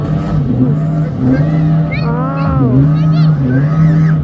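A speedboat's motor drones loudly and steadily in Musandam, Oman, its pitch rising and falling as it passes, while people talk and exclaim over it.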